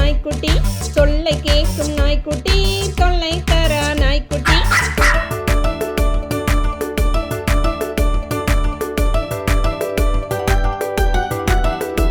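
Puppy barks sound through a bouncy Tamil children's rhyme, yapping over a steady, loud musical backing.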